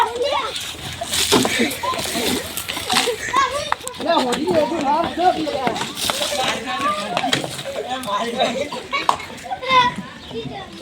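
Water splashing onto people at a playful Holi (Dhuleti) celebration, with bursts of splashing and sloshing mixed with excited children's voices and loud talking throughout.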